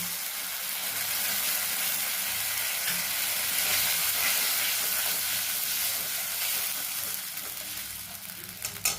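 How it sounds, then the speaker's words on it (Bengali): Spices for a vegetarian chana dal fritter curry sizzle and hiss in the pan after a splash of water, making a close, steady frying sound with light stirring and no voices. "সামান্য পরিমাণে কষাই করার জন্য জল দিলাম।"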